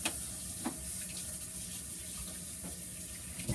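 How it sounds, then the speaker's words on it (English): Hot water runs steadily from a tap over hands being washed, a constant close hiss and splash with a few brief clunks at the start and end. "make sure you wash your hands first. Use as hot water as you can stand"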